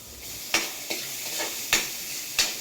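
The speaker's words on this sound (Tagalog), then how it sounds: "Pakita natin na tayo naggigisa." Kangkong (water spinach) being sautéed and stirred in a pan for adobong kangkong, with a steady sizzling hiss broken by four sharp scraping stir strokes, close and fairly loud.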